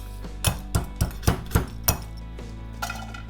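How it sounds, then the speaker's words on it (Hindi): Whole green cardamom pods crushed for a chole spice mix, six sharp metallic knocks in an even rhythm like a pestle or utensil striking a steel dish, followed by a couple of fainter taps, with no talking. "तो सबसे पहले मैं इलायचियों को क्रश कर लूँगी।"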